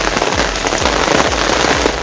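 Heavy storm rain driven by strong winds and mixed with hail pounds down in Gujarat, a loud, dense, unbroken roar of drops close by.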